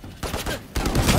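Rapid automatic gunfire from a turret in the tactical shooter game Valorant, two loud bursts of shots close together, the second longer and denser.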